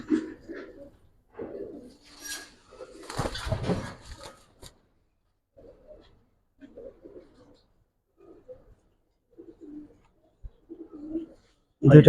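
Giribaz pigeons coo in a loft, soft low coos coming in short separate bursts with quiet gaps between them, close by, along with a brief clatter and occasional voices.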